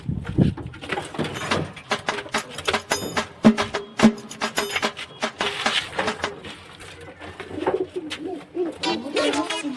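Pigeons coo repeatedly around a home, their soft calls mixed with clatter, thumps and other household sounds throughout.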